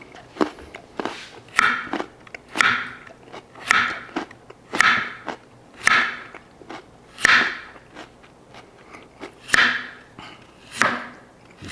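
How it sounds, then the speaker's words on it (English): Someone chews food from a Hello Fresh buffalo spiced chicken meal, with about ten moist, crunchy bites in a steady rhythm close to the mic. "You probably can hear me chew."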